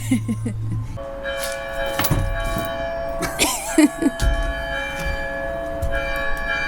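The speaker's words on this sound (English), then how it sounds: "The bells, the bells." Church bells in Plovdiv, Bulgaria ring with sustained, shimmering tones and repeated strikes, while people talk nearby and other sounds mix in.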